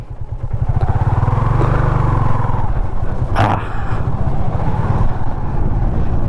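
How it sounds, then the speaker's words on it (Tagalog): A motorcycle climbing a hill at a camping site in Bulacan, its engine rumbling loud and close with a steady throb and a sharp clatter partway through. "may motor na namang napaahon dito"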